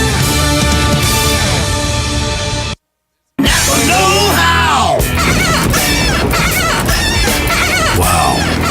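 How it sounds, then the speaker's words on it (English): Windshield wipers screech like an angry monkey in a radio ad effect, loud and harsh, with wild squealing yelps filling the track before and after a short silent gap. "is that an angry monkey screaming at you? Nope, it's your windshield wipers"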